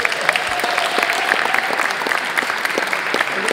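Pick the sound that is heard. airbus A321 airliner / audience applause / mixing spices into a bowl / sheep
audience applause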